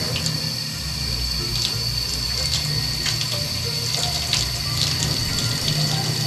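Water running steadily from a tap into a sink at a newly opened riverside campsite, a constant close hiss and splash with a few faint drips over the top and no speech.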